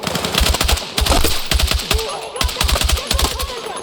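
Gunfire in the video game Battlefield 6, rapid automatic bursts of loud sharp shots in quick clusters, overlapping and continuous with brief gaps between volleys.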